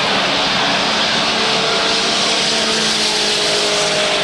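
Mini stock race cars roar around the Waterford Speedbowl oval in a dense, continuous pack, engines droning loudly and steadily throughout with no voices.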